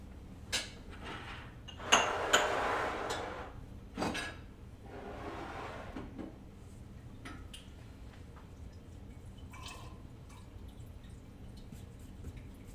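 Water poured into flour for simple dumpling dough, heard as a short burst of pouring and splashing followed by scattered clinks, taps and handling noises of a kitchen, faint and without talking.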